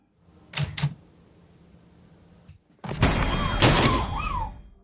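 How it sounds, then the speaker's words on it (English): A couple of quick mechanical clacks, then a denser burst of typewriter-like clattering and thumps with a squeaky, whining tone over it, close and busy. "the sound of the typing enrages the male ghost"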